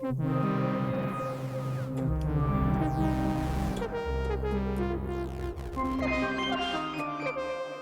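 A dense, layered synth melody with shifting harmonic tones and sweeping textures, loud and continuous with a low bass underneath.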